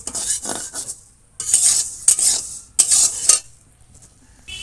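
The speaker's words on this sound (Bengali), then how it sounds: "ডালটা ভেজে নেব।" Dal lentils fry in a pan in short bursts of sizzling and scraping stirs, separated by quiet gaps.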